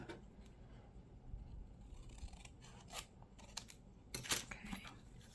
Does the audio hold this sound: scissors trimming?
yes